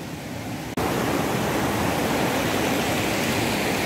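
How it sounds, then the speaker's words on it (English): A clear river at a trail crossing rushes steadily in a loud, broadband wash of flowing water that starts after a brief cut and continues unbroken, close by and with no voices. "This is the last river crossing."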